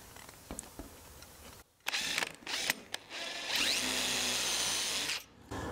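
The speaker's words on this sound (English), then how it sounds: "Remember, we're only drilling deep enough to set that screw." A power drill bores a shallow pilot hole into a wooden window casement for a stay screw, with short bursts of whirring and a longer sustained run of nearby drilling, close and fairly loud.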